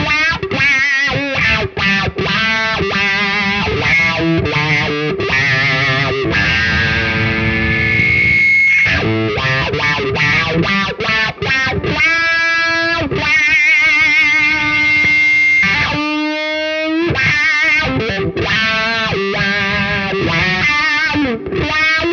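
An electric guitar runs through a wah pedal fitted with a Halo inductor, its distorted tone sweeping up and down in vocal, rhythmic swells. The phrases are played loud and alone, with brief pauses between them.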